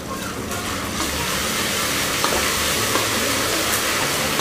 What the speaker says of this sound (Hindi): एक 10-20 सेकेंड अच्छे से अदरक लहसुन को भून लेंगे